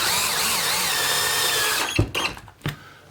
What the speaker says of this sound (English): So you got a pretty long screw here you're going to put in. We're just going to go ahead and snug them up.